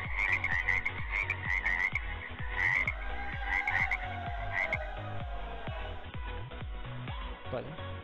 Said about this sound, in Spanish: Trae sapos insoportables